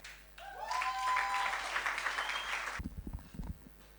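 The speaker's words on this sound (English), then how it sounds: "can you help me welcome with a warm applause one of your own, Mr. Lucky Masilela." Audience applause at a vote of thanks during a Legacy Weekend event in Eswatini, a dense burst of clapping filling the room for nearly three seconds before breaking into a few scattered, closer claps.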